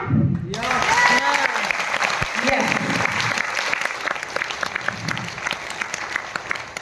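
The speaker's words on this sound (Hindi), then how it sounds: "क्या अपने लिए तालियां?" A crowd at a network marketing seminar breaks into sustained clapping that carries on steadily, with a voice briefly heard over it at the start.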